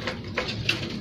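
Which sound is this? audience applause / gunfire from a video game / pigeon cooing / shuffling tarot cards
pigeon cooing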